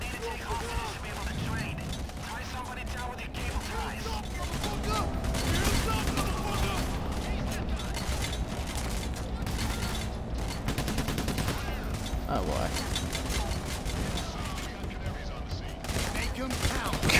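Dense, continuous gunfire fills a PAYDAY: The Heist firefight, rapid overlapping shots and mechanical clatter running loud throughout, with players' voices talking over the shooting.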